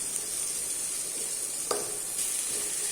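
Onions and curry leaves sautéing in butter for a spicy pepper chicken, a steady soft sizzle throughout with one brief stir or scrape midway, close and moderately quiet.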